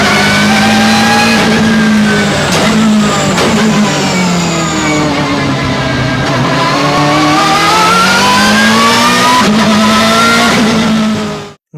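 A 2004 BMW M3 E46 GTR race car with straight-cut gears revs hard and close, its engine note rising and falling repeatedly with a loud, whining gear drive over the roar, ending abruptly.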